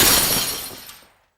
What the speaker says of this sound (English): Then, all of a sudden, there is a big crash.